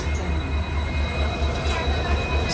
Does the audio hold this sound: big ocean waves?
no